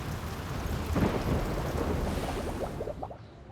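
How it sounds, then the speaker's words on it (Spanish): Steady rain pours during a thunderstorm, a broad hiss with a low rumble of thunder underneath and scattered louder drops near the end. "También nos divierte la lluvia."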